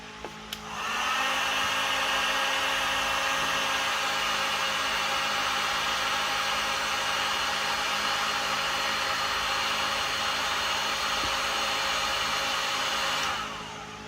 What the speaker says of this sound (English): Now we've got the heat gun. We'll heat this one up and shrink it.